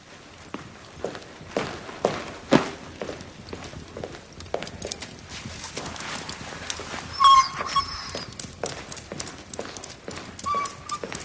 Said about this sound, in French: Je ne veux pas de ce chien.